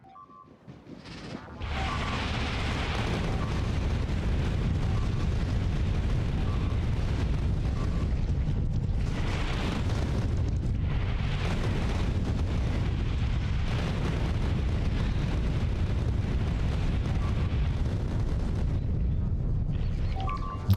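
Four turrets in the video game Factorio fire together as a dense, continuous rumbling barrage of booms that swells and fades in waves for about twenty seconds, loud and steady, with no talk.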